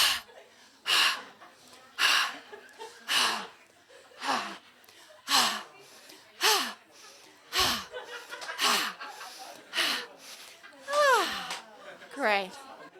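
Deep, rhythmic breaths during a guided breathing exercise, roughly a dozen audible inhales and exhales in steady succession, close and fairly loud, with a few voiced sighs and gasps near the end.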